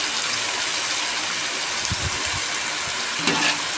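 Onions sautéing in a pan with potato and brinjal for a home-style poriyal, giving a steady, even sizzle close up, with a few soft low knocks partway through.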